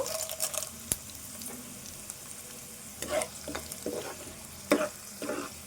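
Chana dal and curry leaves roast in a pan, giving a faint, soft sizzle with scattered sharp clicks and scraping stirs that come in short bursts.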